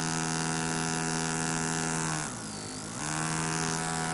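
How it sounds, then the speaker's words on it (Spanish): A small DC motor driven by a 555 timer circuit whines with a steady buzzing hum, then its pitch dips and rises again as the speed is varied, close and alone. "Y podemos ver las variaciones de velocidad del motor."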